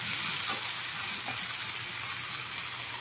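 Young jackfruit sautés in a pan with a steady, even hiss of frying oil, close and moderately quiet, with a couple of faint stirring touches early on.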